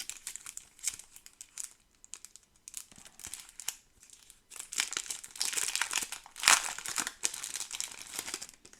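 A small plastic-wrapped pack of board-game hero cards being torn open, with loud close crinkling and crackling of the wrapper coming in bursts, growing busier toward the end, with no talking.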